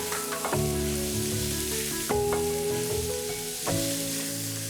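Squid stir-fries in a hot pan, a loud close sizzle broken by a few sharp clanks of a utensil against the pan, with music running beneath.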